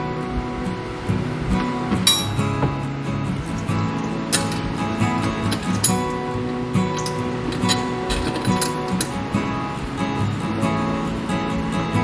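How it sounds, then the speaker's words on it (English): A wrench works on the front shock bolt of an EZ GO golf cart, sporadic metallic clinks and taps ringing close over a steady low background hum, with no talking. "Let me see if I can hold it with my wrench now and tighten that up a bit."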